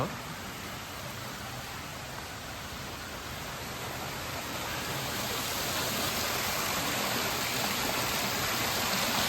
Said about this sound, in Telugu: ఈ వాటర్ లోపలికి అయితే వెళ్ళి మళ్ళీ ఫిల్టర్ అయ్యి బయటకి అయితేనే వస్తాయి మళ్ళీని.